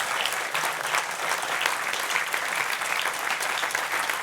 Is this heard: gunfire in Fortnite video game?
no